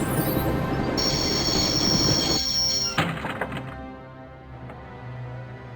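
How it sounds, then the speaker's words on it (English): A train in the video game Broken Sword: Shadow of the Templars rumbles loudly with a high wheel squeal, then a heavy clunk as it slows and stops, leaving faint clanks and fading rumble. "Wanted to stop the train, and now was my chance."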